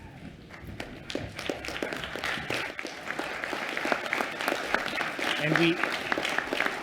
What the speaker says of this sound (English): in a round of applause.